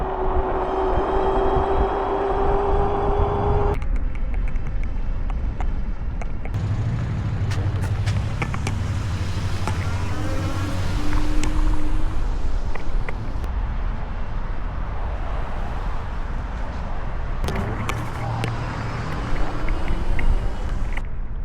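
Scooter ridden at its max speed of 25 mph toward the beach, a loud steady roar of motor whine and rushing wind with shifting tones throughout, close and continuous.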